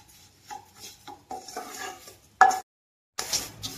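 Wheat rava being slowly stirred and roasted in a pan, with intermittent scraping and rubbing of a spoon against the metal, a few louder clinks and brief pauses between strokes.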